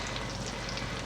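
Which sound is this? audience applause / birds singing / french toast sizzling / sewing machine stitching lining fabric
french toast sizzling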